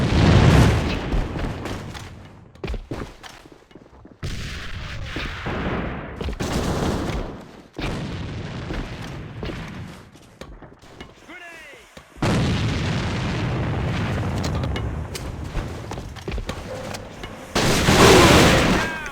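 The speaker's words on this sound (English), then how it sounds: "Grenade!" In the shooter game AVA, during a competitive esports match, grenades explode and gunfire rattles in loud, booming bursts with heavy low rumbles, broken by quieter stretches, while commentators talk over the action.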